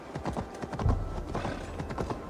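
Horse hooves clip-clop in a steady, close rhythm as a horse is ridden downhill through a frozen landscape in Assassin's Creed Valhalla, with one heavier thump partway through.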